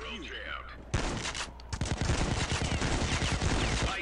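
Gunfire in the mobile video game Payday Crime War: after a quieter opening, loud bursts of rapid automatic shots start and keep going in a dense rattling stream, with someone talking over them.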